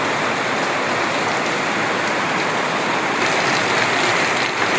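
Heavy monsoon rain pours down in the Andaman Islands as a dense, steady roar, loud and close, with no voices.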